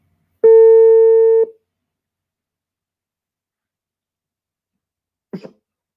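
A single long electronic phone tone of about one second, the signal heard when a call cuts off or the line is busy, followed after a silent gap by a brief, faint rustle or click.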